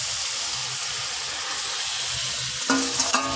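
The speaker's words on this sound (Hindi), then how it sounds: "अब मैं इसमें ये सारा साग डाल दूँगी" Mustard greens for sarson ka saag tipped into a hot, sizzling masala and stirred: a steady frying hiss throughout, then near the end a few louder scraping, rustling stirs of the greens in the pan, with no talk.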